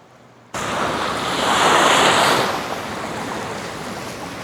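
Surf rolls onto the shore at Pantai Batu Hideung beach in Tanjung Lesung, a loud, steady wash of breaking waves that swells briefly and then settles, with wind rushing over it and no voices.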